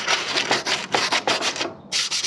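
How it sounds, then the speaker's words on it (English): Rapid back-and-forth wet sanding strokes on a Honda Transalp rally fairing, loud and close, with a brief pause before the rhythmic rasping resumes. "Sanding away with the wet."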